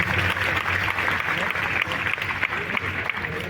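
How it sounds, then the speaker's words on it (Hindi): Audience applause at the Bhagalpur festival opening ceremony, a dense, steady wash of clapping from a large crowd, with faint voices mixed in throughout. "जोरदार तालियों से इनका स्वागत करें।"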